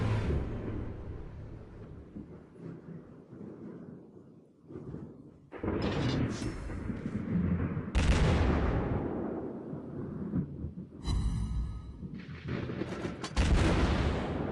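Battleship guns firing in the naval video game World of Warships Blitz, several heavy booming salvos and explosions with rumbling tails, loud and close, separated by quieter stretches of engine and ambient game noise.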